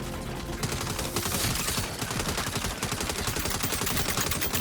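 Continuous rapid turret gunfire roars in the Saints Row video game, a dense, loud stream of overlapping shots with no pauses.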